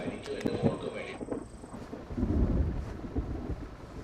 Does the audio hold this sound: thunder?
yes